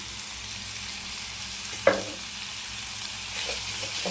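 Tomatoes with a pinch of salt fry softly in a pan, giving a steady low sizzle with one brief clack of a utensil partway through and no voices.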